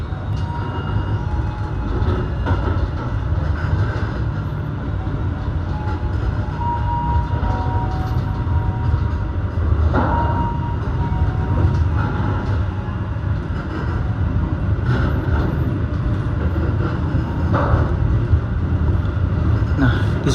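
A passenger train pulls out of Gundi station in Indonesia, its wheels and carriages rumbling steadily with intermittent rail clanks for about twenty seconds, heard from close by without speech.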